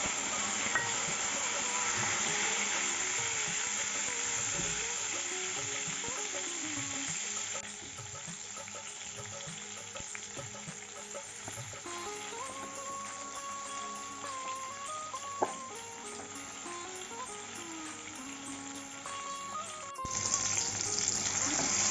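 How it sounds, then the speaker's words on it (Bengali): Chopped tomato sizzles in hot tempered spices in a pan for Bengali khichuri: a steady, close frying hiss with occasional stirring scrapes, and faint background music running underneath. "ফোড়নটা হয়ে গেছে, এখন টমেটো কুচিটা দিয়ে দিচ্ছি।"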